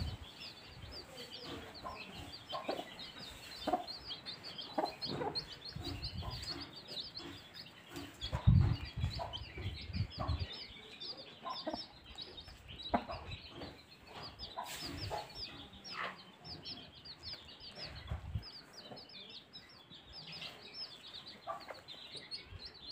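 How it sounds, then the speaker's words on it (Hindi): A hen with chicks hatched two days earlier, soft repeated clucking and faint peeping chirps going on continuously, close by at low level, with one louder call partway through. "ये और एक मुर्गी है जिसने दो दिन पहले ही इन बच्चों को निकाला है अंडे से"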